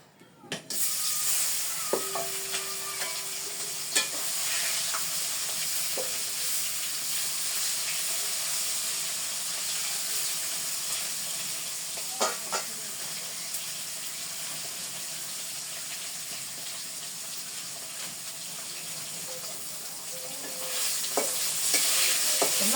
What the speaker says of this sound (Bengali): কড়াই তাপে গেছে মাছ দিয়ে দিই